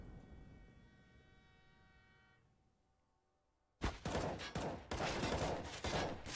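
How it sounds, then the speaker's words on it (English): Counter-Strike match on the Train map: after a few seconds of faint low hum and quiet, a loud close flurry of burst gunfire breaks out in rapid overlapping volleys that continue to the end. "Burst fire comes out, doing damage again to the CT forces"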